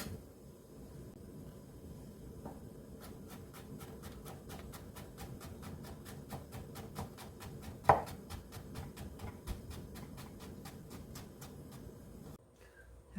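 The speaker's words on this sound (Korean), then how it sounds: "이제 채 썰어 보도록 하겠습니다." A knife julienning zucchini for bibimbap on a cutting board makes a long run of quick, evenly spaced chopping taps, close and fairly crisp, with one louder knock midway and a brief pause before the cutting stops.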